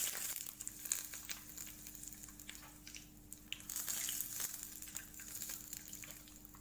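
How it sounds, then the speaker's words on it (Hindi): Hot tempering of curry leaves and sesame seeds is poured over khandvi, giving a faint, crackly sizzle with scattered pops over a low, steady background hum. "जो हमने तड़का रेडी किया था वो हम इसके ऊपर डालने वाले हैं।"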